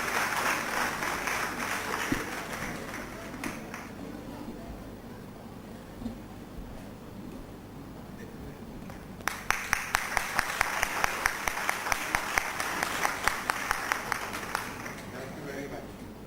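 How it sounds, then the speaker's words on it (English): Conference attendees at a college applaud during a memento presentation to a guest; a full round of clapping fades into quieter talk, then picks up again as sharper, rhythmic claps toward the end. "So please give a big round of applause for Dr."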